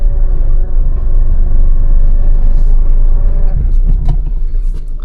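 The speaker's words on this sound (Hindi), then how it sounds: "देखो थोड़ा सा गाड़ी ना जर्क दे रही है क्योंकि क्लच प्लेट्स गर्म हो गई है गाड़ी की" Manual car with hot clutch plates straining on a steep incline, a loud low engine rumble that lurches and jerks, with faint voices in the background.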